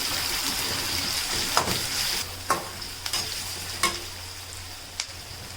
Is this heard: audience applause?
no